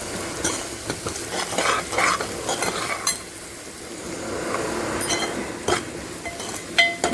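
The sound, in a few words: fish curry masala sautéing and being stirred in a pan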